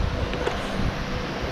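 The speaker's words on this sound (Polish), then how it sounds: "Nawet ciężko się mówi przy tym wietrze." Strong outdoor wind buffets the microphone by a riverside bench, a loud continuous low rumble with gusty surges throughout and no voice.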